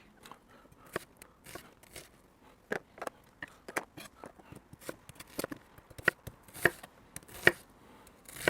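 Knife chopping a large onion for an Indian curry sauce base, a run of sharp, irregular crunchy cuts close by with no talking, some strokes louder than others.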